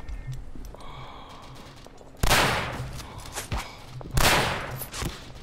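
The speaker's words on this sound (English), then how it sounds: "Ah, I've been sniped." Two loud, sharp gunshot cracks, the second landing about two seconds after the first, cut through a quieter background of game noise and footsteps during a Verdun squads match, with a sniper rifle firing.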